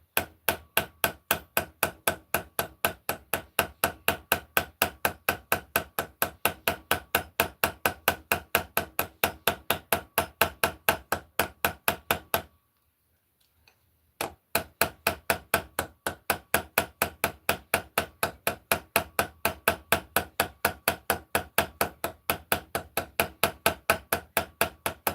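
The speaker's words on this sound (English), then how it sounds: "start hammering on it again" Rapid, evenly spaced hammer blows peen the pivot pin of a slipjoint knife, sharp metallic strikes ringing close and loud, broken by a brief pause of about two seconds before the steady pounding resumes.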